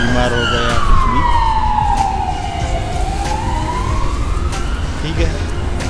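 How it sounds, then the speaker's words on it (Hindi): An ambulance siren on a street in Turkey wails past in one long falling-then-rising sweep, loud over steady traffic rumble, with someone talking over it. "ये देखो एम्बुलेंस जा रही है"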